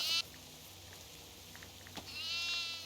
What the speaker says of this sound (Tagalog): May kambing ata dun sa dulo.